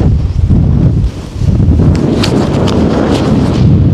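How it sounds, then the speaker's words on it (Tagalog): Strong wind on a Tatra mountain ridge buffets the microphone in a loud, continuous roar with gusty rises and dips throughout. "Hindi ko na kaya guys, mahangin na masyado."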